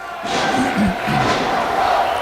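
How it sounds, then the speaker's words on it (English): A live wrestling crowd at an indoor event, split between two wrestlers and chanting for each, loud rhythmic group shouting with a couple of sharp hits and thuds in the ring. "the crowd is one half chanting for Colt Cabana, one half chanting for Austin Aries"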